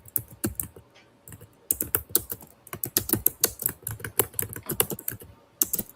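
Fingers tap rapidly on a computer keyboard during a typing practice test, with quick irregular bursts of crisp keystrokes and short pauses, close and fairly quiet.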